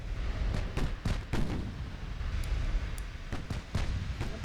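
Naval 6-inch guns fire in the Ultimate Admiral Dreadnoughts game, a string of loud booming shots with rumbling tails, several close together then more spaced out.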